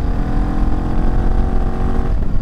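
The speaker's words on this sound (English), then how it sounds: "The exhaust notice is really nice, and it's not as loud as my CRF with the Dominator exhaust" AJP PR7 single-cylinder motorcycle engine and exhaust while riding, a loud close steady thumping drone with a low pulsing throb and slight wind, no talk.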